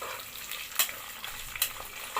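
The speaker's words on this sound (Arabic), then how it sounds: "هحمر الشعريه كويس." Vermicelli fries in ghee and a little oil in a pan, giving a steady close sizzle. A few brief stirring scrapes stand out over the frying.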